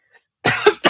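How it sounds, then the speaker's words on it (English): A woman gives a faint hiccup-like catch, then after a short pause lets out a harsh cough followed by a second cough burst, all close and loud. "I had like a little hiccup and a cough at the same time"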